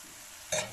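Spices frying in a pan for vegetable achard, a soft steady sizzle with a brief louder scrape of stirring near the end, close and on its own.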